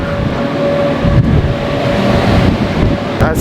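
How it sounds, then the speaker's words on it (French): Strong wind on a boat crossing the Mediterranean buffets the microphone in a continuous low roar with gusty rumbling throughout. "il y a beaucoup de vent"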